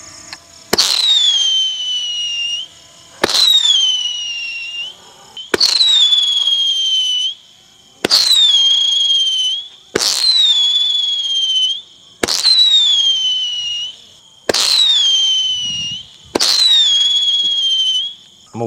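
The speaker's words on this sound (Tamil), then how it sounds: "ஸோ 25 விசிலிங் ஒரு பெரிய கிராக்கர்." A big 25-shot whistling firecracker set off for Diwali, bursting in a loud, regular series: eight sharp cracks about two seconds apart, each followed by a shrill descending whistle.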